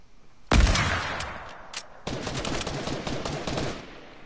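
Loud, close bursts of gunfire from a video game match, one heavy blast followed by a sustained rapid volley lasting several seconds.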